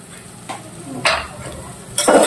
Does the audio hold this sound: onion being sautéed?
yes